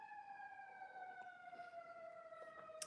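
Faint distant sirens wail outside, several steady tones sliding slowly down in pitch, with light background noise and a small knock at the end.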